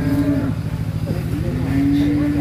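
Extreme-class cattle being unloaded from a tilting truck give long, loud moos up close, one at the start and another rising near the end, over an idling vehicle rumble.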